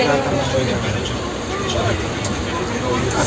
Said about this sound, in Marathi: सध्या ही इथं ट्रेन आलेली आहे